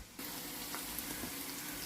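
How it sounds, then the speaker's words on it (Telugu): Bitter gourd frying in a pan, a steady, faint hiss of sizzling oil that starts abruptly and carries on evenly, with no talk. "కాకరకాయలు చక్కగా వేగినాయండి"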